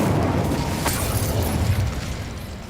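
An Incendio fire spell in the Hogwarts Legacy video game erupts in a loud, roaring whoosh with a sharp crack near the start, then rumbles on and slowly fades.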